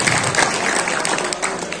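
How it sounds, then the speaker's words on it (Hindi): Loud, enthusiastic applause from a crowd at a Samajwadi Party workers' meeting in Kiratpur, welcoming party members being garlanded; dense, continuous clapping with a faint murmur of voices beneath. "इनका जोरदार तालियों से स्वागत और अभिनंदन"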